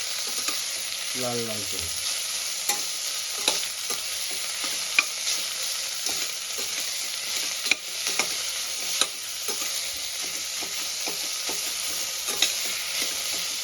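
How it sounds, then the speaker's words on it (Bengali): Chopped onion, green chili and whole garlic frying in a spiced tempering for South Indian tomato rice give a steady close sizzle with scattered stirring scrapes, and a voice speaks briefly near the start. "আমি কেটে রাখা পেঁয়াজ, কাঁচা লঙ্কা আর রসুনটাও দিয়ে দিয়েছি। এবার এটা একটু আমি ভেজে নেব"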